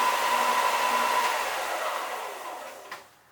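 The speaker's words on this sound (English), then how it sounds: "I've got the evil sander over here, so as soon as I turn that on, I'm having to compete with that for sound" An electric sander runs with a loud, steady whirring drone nearby, then winds down and fades out in the last second.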